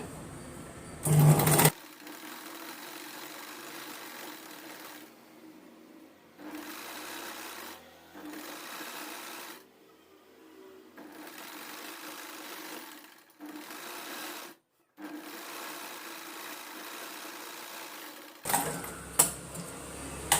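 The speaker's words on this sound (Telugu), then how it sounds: "జాయింట్ చేసేసుకుని మనం టాప్ స్టిచ్ అనేది వేసేసుకోవాలి." A sewing machine runs a top stitch along a long frock in several sustained whirring, rattling runs broken by short pauses, loud and close, with brief handling noises at the start and end.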